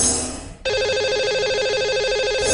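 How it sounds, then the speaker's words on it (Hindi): During a radio call-in show a telephone line rings out as the host dials a caller, a brief dip followed by a sustained, bright, warbling ring tone that fills the rest of the clip. "आइए उन्हें सबसे पहले फोन लगाते हैं।"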